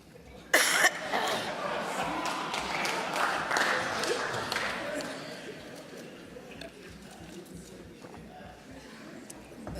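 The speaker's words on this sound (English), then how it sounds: "that cough comes at a strategic moment." A single sharp cough rings out in the South African parliament chamber during a no-confidence vote proceeding, followed by a murmur of the assembly and scattered background noise.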